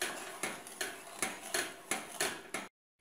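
Spoon stirring a thick cake filling in a pan on the stove, giving a regular series of sharp metallic clinks and scrapes about every third of a second, close and fairly quiet, ending in sudden silence.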